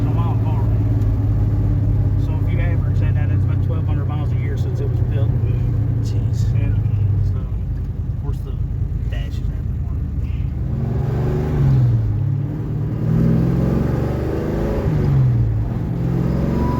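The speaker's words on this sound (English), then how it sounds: "It is so weird to look down and see you shifting gears in a Monte Carlo SS." A Chevrolet Monte Carlo SS with a manual gearbox and 79,000 original miles cruising, its engine a low steady rumble from inside the cabin, rising and falling through gear changes under ongoing conversation.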